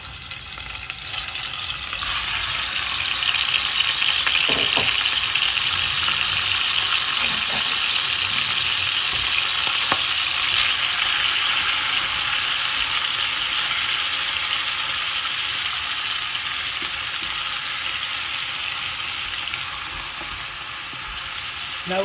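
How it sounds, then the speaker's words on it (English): Minced meat for Greek spaghetti with mince fries in a pan with a strong, continuous sizzle, while a utensil stirs and scrapes through it now and then, up close and with no talking. "you need to spend a lot of time stirring constantly all the ingredients that you're going to be adding"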